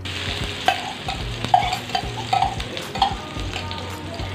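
Crushed ginger and garlic sizzle and fry in a hot pan while being stirred, with close scraping strokes and light clinks of a utensil against the metal, steady and fairly loud throughout.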